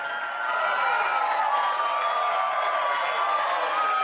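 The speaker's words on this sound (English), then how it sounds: "Get the crowd roaring." A crowd roars as a sound effect, a steady wash of cheering and applause that swells in after a brief quieter start and holds loud and constant.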